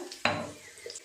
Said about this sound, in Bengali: ফোড়নে দিলাম 2টো তেজপাতা, শুকনো লঙ্কা